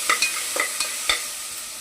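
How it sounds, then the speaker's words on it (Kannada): Crushed turkey berries fry in a hot pan while being stirred, with a few distinct scraping clatters of the spoon over a steady soft sizzle, close and fairly quiet, no voices. "ಜಜ್ಜಿ ತೊಳೆದಿಟ್ಕೊಂಡಿದ್ವಲ್ಲ ಸುಂಡೆಕಾಯಿ ಹಾಕೊಳ್ಳೋಣ."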